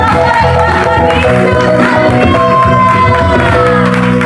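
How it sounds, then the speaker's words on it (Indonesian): A church congregation applauds during a worship service, dense, loud clapping that fills the space, mixed with sustained music and voices throughout. "kasih tepuk tangan"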